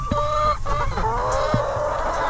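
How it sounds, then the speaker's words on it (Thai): Backyard laying hens clucking close by, with several overlapping calls, short squawks and drawn-out tonal cackles in quick succession. "สวัสดีน้องไก่เป็นยังไงบ้างเนี่ย"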